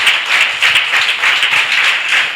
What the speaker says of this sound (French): Quelqu'un n'a qu'à ovationner pour le roi des rois.